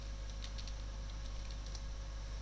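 Keys tapped on a computer keyboard while entering commands in a command prompt, a light irregular patter of clicks over a steady low hum, close and fairly quiet.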